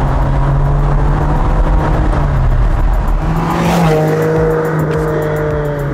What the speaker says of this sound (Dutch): En die 12 cilinder doortrekken naar 7500 toeren.